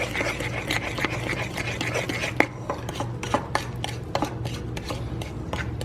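Kentucky Derby pie filling being stirred by hand in a bowl, a steady scraping and rasping with soft knocks of the utensil against the bowl, close and continuous.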